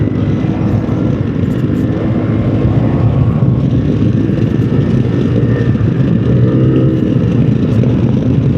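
A Keeway XDV250 250cc scooter cruises along a quiet road near Minmeoru beach on Ganghwa Island, its engine droning steadily with constant loud wind rush and no talk.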